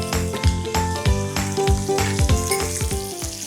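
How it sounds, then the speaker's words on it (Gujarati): A tempering of curry leaves, ginger-chilli paste and chopped chillies sizzles loudly and close, under rhythmic stirring knocks and scrapes against the pan. "હવે આ બધું વ્યવસ્થિત સાંતળી લેશું."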